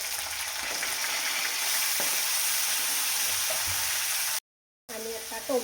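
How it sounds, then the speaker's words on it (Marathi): Tomatoes tossed into hot oil with browned garlic in a kadhai, a loud steady frying sizzle filling most of the clip, then a brief silence before softer stirring and clinks. "आता मी टाकते याच्यामध्ये टोमॅटो."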